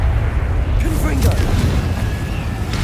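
In Hogwarts Legacy, a Confringo fire spell lands with a loud, sustained booming explosion and a rumbling burst, with a voice calling out over it.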